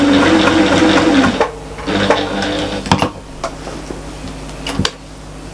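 A sewing machine stitches around a small fabric bag in short close bursts, a steady whir broken by pauses and small clicks.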